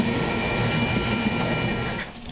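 A long train rolls past close by, a loud steady rumble with rail clatter that holds throughout and eases slightly at the end, no talking.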